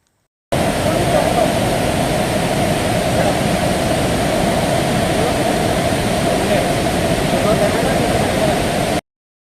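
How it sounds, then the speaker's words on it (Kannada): Burude waterfall near Siddapur in Karnataka's Shivamogga district gives a loud, constant, close rushing roar that starts and stops abruptly and stays uniform throughout. "ಸ್ವಲ್ಪ ದೂರ ಮೆಟ್ಲನ್ನ ಇಳಿದು ಹೋದ್ರೆ ಸಾಕು ನಿಮ್ಗೆ ಸಿಗೋದೆ ಈ ಮೆಸ್ಮರೈಸಿಂಗ್ ಬುರ್ಡೆ ವಾಟರ್ ಫಾಲ್ಸ್"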